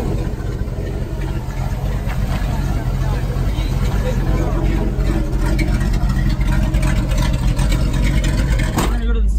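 A 1979 Dodge Power Wagon engine runs with no exhaust fitted, a loud, steady, raw rumble close by that fills the whole stretch, with voices talking over it.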